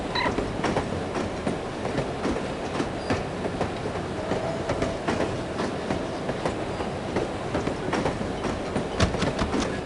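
A train rolls on its tracks in the video game No One Lives Forever, a steady loud rumble with repeating clickety-clack wheel beats throughout and no talking.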